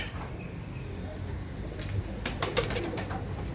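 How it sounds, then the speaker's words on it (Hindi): Pet pigeons of a fancy bloodline breed coo softly in a loft, low murmuring calls beneath a hiss of background noise, with a few quick fluttering sounds near the end. "ये देखो मेरे व्यूवर्स को, ये मेरे कबूतर हैं दोस्तों।"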